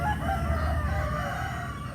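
A rooster crows at a chicken coop on a rural Thai property in a long, drawn-out call close by, with other fowl faintly clucking behind it.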